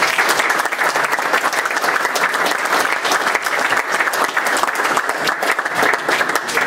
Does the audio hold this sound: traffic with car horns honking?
no